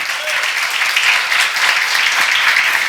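A church seminar audience breaks into applause, a brief, even burst of many hands clapping at close range.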